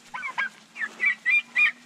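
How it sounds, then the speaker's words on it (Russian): Pedigree turkeys on a shared farm pasture give a string of five or so honking, goose-like calls in uneven bursts, close by and fairly loud, over a steady low hum. "Вот, смотрите, породная индейка"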